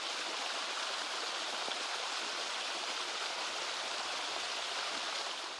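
Water rushing through muddy, rain-flooded trenches in wet weather, a steady dense broadband wash like a strong stream, continuous and close for the whole stretch with no voices.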